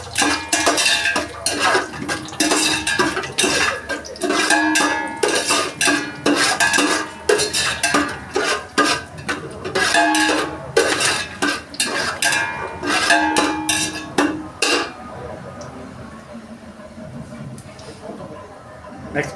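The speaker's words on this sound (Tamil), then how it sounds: "இதெல்லாம் போட்டு ஃப்ரை பண்ணுறோம்." Cumin, cinnamon, fennel, nutmeg and bay leaf fry in a pot for chicken biryani, with a metal spoon repeatedly clattering and scraping against the pot in a busy rhythm before settling into quieter cooking noise near the end.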